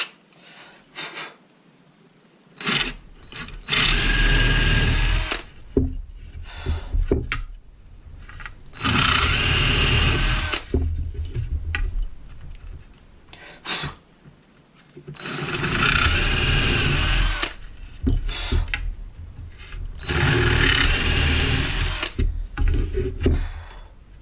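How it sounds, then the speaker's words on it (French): An electric drill whines in several long, loud bursts, each a few seconds, with brief pauses between, biting steadily into wood while making wooden clamping knobs. "cette fois je vais passer à une mèche un peu plus grosse"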